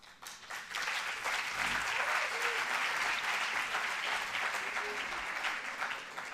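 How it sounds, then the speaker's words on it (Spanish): Audience clapping at a talk on love, a soft but continuous round of applause lasting several seconds, even and unbroken, with no voices over it. "Esto es la primera vez que me pasa que me aplauden antes de hablar"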